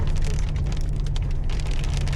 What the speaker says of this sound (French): Maintenant il se met à grêler, on peut voir les petits grêlons.